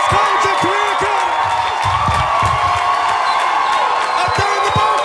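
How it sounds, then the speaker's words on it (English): A graduation crowd for Cleveland Rhodes College and Career Academy cheers and whoops continuously in a large venue, a loud, dense roar with shouts and scattered clapping. "Get up on your feet and cheer for your baby that is about to graduate from Cleveland Rhodes College and Career Academy."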